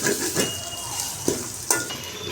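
Bagara rice masala frying in oil in a pot, a soft faint sizzle with a few light metallic clinks of a spoon against the pan.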